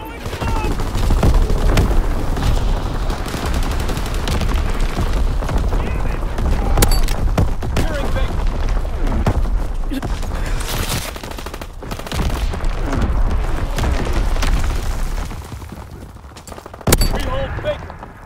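A Call of Duty: WWII artillery barrage and gunfire rage through a domination match, with dense overlapping blasts and crackling shots under shouted in-game voice callouts, and a loud burst near the end.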